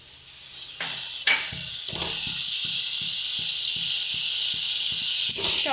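Ground tomato paste hits a pan of frying spice masala with a loud burst of sizzling, then settles into a steady hiss of bubbling oil, with rhythmic stirring taps beneath.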